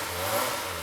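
A Kawasaki Ninja ZX-25R motorcycle engine revs briefly, a steady mid-pitched engine tone swelling slightly and then holding, heard alone at close range.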